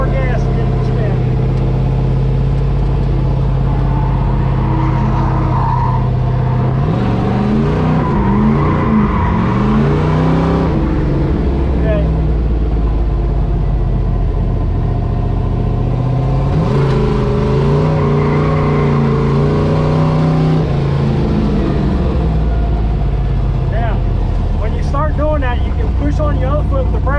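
Drift truck engine revving on and off with tires spinning, a steady rumbling drone rising in two longer surges, with people talking over it throughout.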